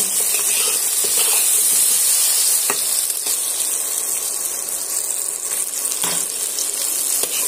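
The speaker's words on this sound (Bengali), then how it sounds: "আলুটা আমি আবারও টমেটোর সঙ্গে আবারও সুন্দর করে একটু ভেজে নেব" Potatoes frying with tomatoes in a pan for a rohu fish and eggplant curry, a steady close sizzle and hiss running throughout with a few faint stirring knocks.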